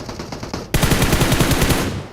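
An AWM sniper rifle is fired in a mobile shooter game, with a short muffled lead-in, then a loud, sharp burst of gunfire that rattles rapidly and keeps sounding densely until the end.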